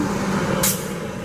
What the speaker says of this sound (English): Buses everywhere.